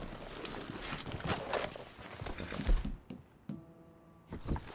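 Horse hooves clip-clop at a walking pace through a Red Dead Redemption 2 game scene, irregular dull thuds over busy ambient background that thins out toward the end.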